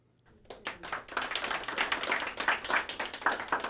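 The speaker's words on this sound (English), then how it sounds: "Round of applause inside the Sands Hotel this morning in Rehoboth Beach." A crowd inside the Sands Hotel in Rehoboth Beach breaks into a round of applause, starting from near silence with a few claps and swelling into steady, fairly close clapping.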